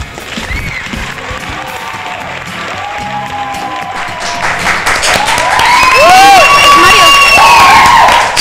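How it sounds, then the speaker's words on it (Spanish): Studio audience of the Mexican talk show Corte y Queda welcoming guest José Luis Cordero Pocholo, clapping and cheering with bright whistles, swelling louder halfway through into a full roar. "Recibamos con un fuerte aplauso a José Luis Cordero"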